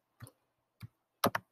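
Mouse clicks on words in a teachers' Amplify learning program: four quick, close clicks, a single click, a lone one, then a tight pair near the end, in an otherwise quiet room.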